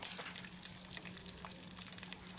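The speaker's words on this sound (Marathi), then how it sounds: "इथे टाकायचे आहे झिंगे म्हणजे आपल्याला या झिंग्यांना छान असं फ्राय करून घ्यायचं आहे" Prawns frying in a pan, a dense continuous sizzle with crackling spatter heard close and steady throughout.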